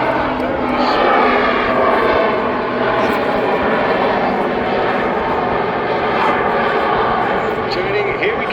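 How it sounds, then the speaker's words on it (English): Jet engines spool up on an aircraft performing at a seaside airshow, giving a loud, continuous, broad roar that holds steady throughout while a commentator talks over it. "you'll hear the jet engines kick in, and there we go. Ah, the sound of jet"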